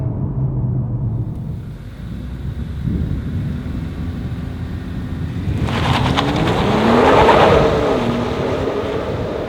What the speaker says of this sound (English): It actually spun a little bit in first gear as the engine revs built